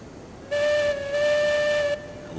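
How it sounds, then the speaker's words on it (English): A steam locomotive whistle in the video game Railroads Online sounds in two long, loud, steady blasts with a short gap between them, over faint background hiss. "I love the whistle"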